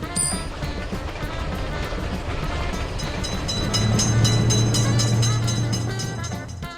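A train running through a road level crossing, its rolling rumble building steadily before a long horn blast sounds out loud and near, with clattering wheels throughout.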